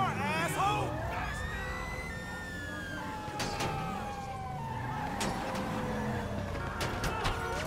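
Police car siren in Grand Theft Auto V, wailing and sweeping in pitch alongside other overlapping sirens and game traffic noise, with a voice talking over it.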